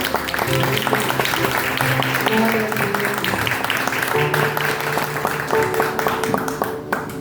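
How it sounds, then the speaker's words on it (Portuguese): A congregation at a church service, a Mother's Day worship, claps along over sustained music, with a voice speaking briefly amid the applause. "Você pode aplaudir ao Senhor pela mãe que te gerou?"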